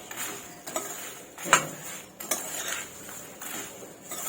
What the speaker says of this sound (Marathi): मखाने पोहे आणि मुरमुरे हे आपण यामध्ये घालून घ्यायचे चांगलं सगळं साहित्य हे मिक्स करून घ्यायचं आहे